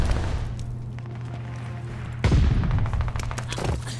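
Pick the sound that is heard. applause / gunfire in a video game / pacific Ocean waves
gunfire in a video game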